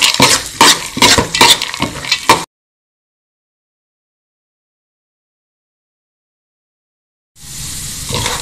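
Chana dal, 200 grams, roasting in ghee for payasam, with busy scraping stirs and clinks for a couple of seconds, then silence, then a steady sizzle returning near the end.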